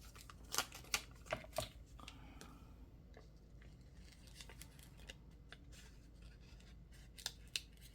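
Scissors snip through paper collage tags with a few crisp, close cuts early on and more later. The cuts are quiet and sit over a faint steady background hum.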